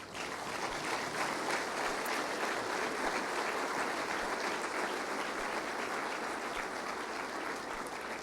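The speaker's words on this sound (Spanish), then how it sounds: "Dale un aplauso al Señor." Church congregation applauding during a sermon, a steady dense wash of clapping that holds at an even level throughout, with no talk over it.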